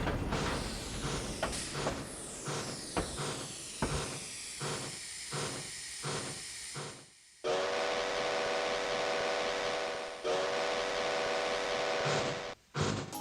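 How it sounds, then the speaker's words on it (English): In a children's story, rhythmic steam chuffs build up from a circus train, then a loud, sustained steam train whistle blows for several seconds, breaks briefly, and sounds again. "It was Casey Jr., the circus train"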